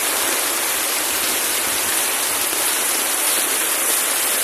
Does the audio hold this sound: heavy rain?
yes